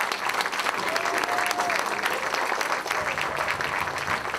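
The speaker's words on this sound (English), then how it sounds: "please one more round of applause for our fabulous debaters" Audience applause for the debaters at a winter stage show's debate, a steady dense wash of clapping from a crowd that holds evenly throughout, loud and close, with no speech over it.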